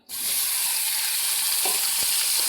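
Two tomatoes hit hot oil in a pan and set off a sudden, loud, steady sizzle that holds evenly to the end, with a couple of faint stirring clicks partway through.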